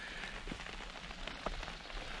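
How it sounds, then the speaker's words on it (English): Snow or light hail pattering steadily on a Lanshan 2 Pro tent during a wild camp in the UK, a soft continuous patter with a few louder taps, quiet and close. "it's either really thick snow or really light hail."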